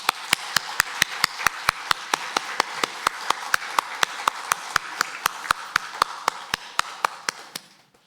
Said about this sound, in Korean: 다시 한번 격려의 박수 하겠습니다.